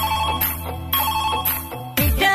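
A phone ringtone effect in a Rajasthani DJ love song chimes four times in a steady rhythm, bright and clear over the ongoing music and beat.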